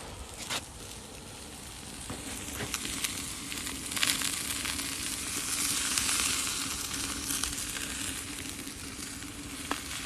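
Food sizzles steadily on a hot grill, a continuous crackling hiss with occasional louder pops, close and unbroken by talk.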